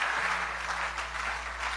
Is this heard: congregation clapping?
yes